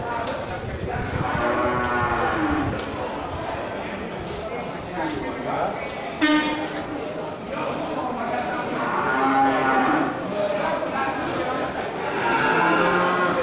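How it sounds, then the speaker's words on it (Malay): Several deep, drawn-out moos from large water buffalo sound close by at a buffalo market, repeating over a noisy outdoor background with a person talking. "ini terlihat satu ekor lagi kerbau super besar yang ini kerbau kling ya"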